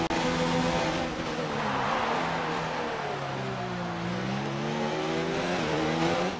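A Formula 1 car in F1 2019 accelerates hard along the long straight at the French circuit. The engine screams loud and close, its pitch climbing through the gears, dipping at each shift and rising again.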